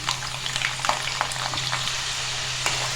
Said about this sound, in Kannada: ಹತ್ತರಿಂದ ಹನ್ನೆರಡು ಗಡ್ಡಿಯಷ್ಟು ಬೆಳ್ಳುಳ್ಳಿನ ಸುಲ್ಕೊಂಡ ಹಾಕಾಕತ್ತೀನಿ ಇವೆಲ್ಲ ಫ್ರೈ ಆಗಲಿ